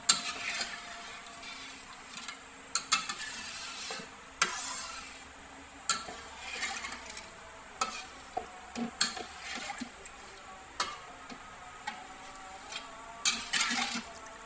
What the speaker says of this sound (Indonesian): Kita aduk dulu ya, supaya bumbu tadi tidak menggumpal.